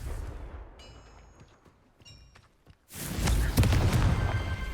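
In the video game Hogwarts Legacy, the Confringo blasting spell fires, with faint crackles and chimes before it, then a loud, sustained roaring blast that holds to the end.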